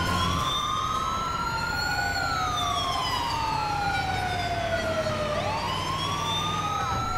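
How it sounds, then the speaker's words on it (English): An ambulance siren in Grand Theft Auto 5, a loud continuous wailing tone sweeping slowly up and down over steady engine and road noise, close and unbroken. "They gotta think we're a legit ambulance!"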